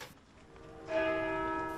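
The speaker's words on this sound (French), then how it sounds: "du village d'origine de Benoît XVI, les cloches de l'église d'Altötting ont sonné à l'annonce de sa mort." Church bells of the Altötting church ring out, starting faintly and swelling into a sustained, resonant peal partway through, alone without voices.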